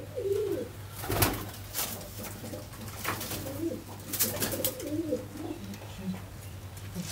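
Pigeons coo softly and repeatedly, close by, while someone talks over them through most of the stretch.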